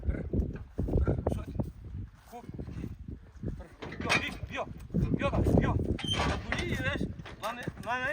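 Hooves of a draft mare clip-clop along, with people talking over the footsteps and occasional creaks.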